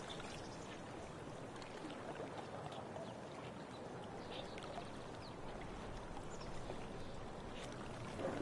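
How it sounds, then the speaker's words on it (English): Kayak paddling in the video game Life Is Strange True Colors: quiet, continuous water swishing and trickling with a soft low rumble, steady throughout with no talking. "If not for the paddling, kayaking would be super relaxing."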